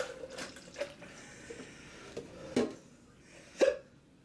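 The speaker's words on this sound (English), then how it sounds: "Oh yeah, there's the hiccups." Several sharp, isolated hiccups from a person after eating a Bhut Jolokia pepper, spaced about a second apart against quiet room noise.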